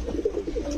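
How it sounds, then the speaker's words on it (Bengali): Four pairs of pigeons at a pigeon shop give soft, low cooing, a short burst of rolling throaty calls close by. "দর্শক, এই হচ্ছে 4 জোড়া কবুতর"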